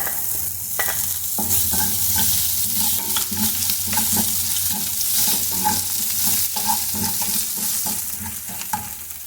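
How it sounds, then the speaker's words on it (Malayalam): Sliced ginger crackles and sizzles in hot oil left over from frying prawns for a Kerala prawn roast, a loud, steady frying hiss with scattered pops and stirring scrapes throughout, with no voices. "പ്രോൺസ് വറുത്തെടുത്ത എണ്ണയിൽ തന്നെ ഇത് വറുത്തെടുക്കുമ്പോൾ"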